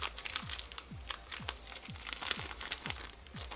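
Cardboard and plastic packaging of an EDC Las Vegas 2019 ticket box being opened up close, with steady crinkling and tearing that repeats in a rough rhythm, no talk.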